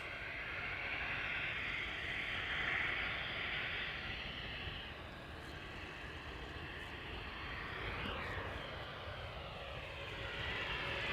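A brand-new Airbus A320neo moves at Amsterdam Schiphol, its jet engines a steady, fairly distant roar, slightly louder early on and then holding level, with nothing else over it.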